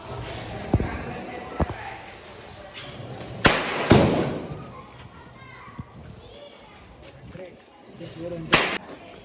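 Several sharp firecracker bangs burst at irregular intervals during Diwali, some close and loud, amid excited children's voices and chatter.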